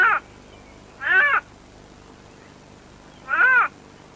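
A male European wildcat in Germany gives three drawn-out, harmonic yowling calls, each under half a second, with long quiet gaps between them and no other sound around.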